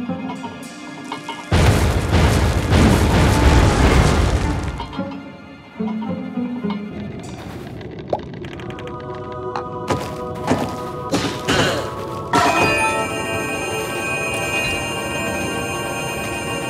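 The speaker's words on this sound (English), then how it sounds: "You see the machinery up there, up the stairs? Throw your bomb right there." A bomb thrown at machinery up a flight of stairs on Sky Island in the video game Oceanhorn bursts in a loud, broad boom lasting a few seconds, followed by lighter clanks and thuds over a steady musical background.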